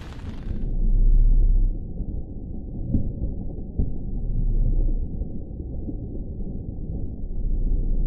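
A deep, low rumble of thunder from a thunderstorm in the Maine wilderness rolls and swells for several seconds, heavy and muffled, with no voices over it.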